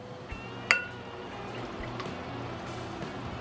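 Water runs and splashes into a measuring cup as honey residue is rinsed out in a home kitchen, with a sharp clink of the cup near the start and a soft, continuous pour after.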